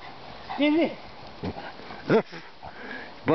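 A dog gives several short, high whimpers and whines with snuffling breaths between them, close and moderately loud, in brief bursts spread across a few seconds.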